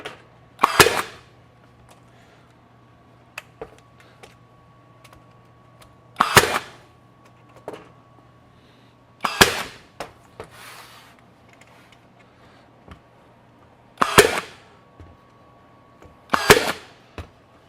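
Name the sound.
Ridgid 18V 16ga straight finish nailer shooting nails into trim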